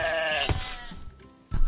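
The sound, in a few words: sheep bleating in Minecraft video game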